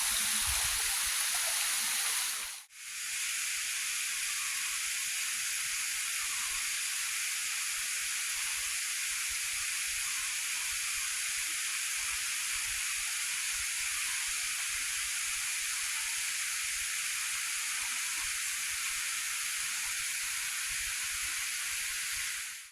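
Low-flow waterfall at a tall falls running in a constant hissing wash, even and unbroken after a brief dip near the start, with no voices.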